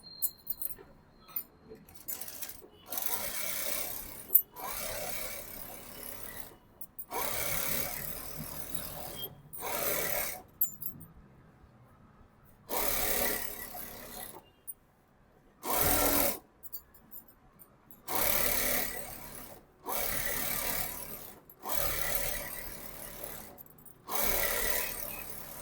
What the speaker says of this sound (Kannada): ಸೊ ಡಬಲ್ ಸ್ಟಿಚ್ ಹಾಕೊಳ್ಳೋಣ.